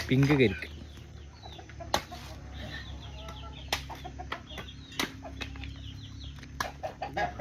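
Chickens cluck on a small home farm plot, opening with a loud squawk and followed by scattered short clucks and soft rustling nearby, with a voice partly audible.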